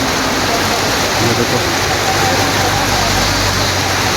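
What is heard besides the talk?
heavy monsoon rain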